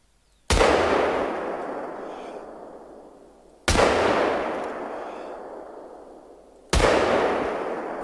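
Shotgun fired three times using iron sights in theHunter: Call of the Wild, every shot a sudden heavy boom trailing off in a long reverberant decay, evenly spaced and unaccompanied by speech.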